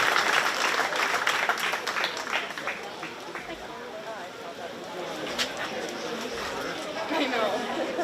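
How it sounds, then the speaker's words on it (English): Audience applause in a show ring at a county fair 4-H and FFA swine show, a broad, steady clapping mixed with crowd chatter and speech, loud and continuous throughout. "I think we need to give Kevin Gosshorn a big round of applause for all his help over these many years."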